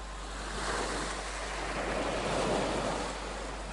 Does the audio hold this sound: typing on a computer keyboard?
no